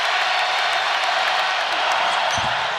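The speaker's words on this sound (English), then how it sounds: "Here comes this crowd." A basketball arena crowd roars steadily at a college game between Washington and Purdue, a loud, dense wash of cheering that holds throughout, with no distinct talk over it.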